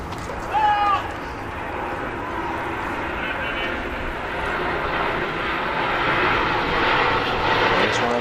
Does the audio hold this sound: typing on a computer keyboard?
no